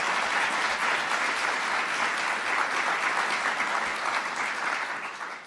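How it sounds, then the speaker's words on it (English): A panel audience at a UW-Madison journalism ethics event gives its distinguished panelists a round of applause, with dense, sustained clapping from many hands that stays loud throughout and tapers slightly at the end. "So please, a round of applause for all our distinguished panelists."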